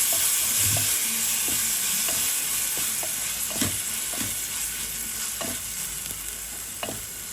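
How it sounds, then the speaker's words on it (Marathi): Onion and tomatoes fry in a pan for dal tadka, giving a steady sizzling hiss with occasional soft clicks of stirring, heard close up with no speech. "आनी बरें भाजया"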